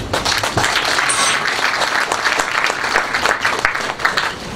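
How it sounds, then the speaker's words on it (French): Sustained applause from a large crowd, a dense steady patter of many hands clapping with no break. "Je vous demande encore une fois de plus d'applaudir."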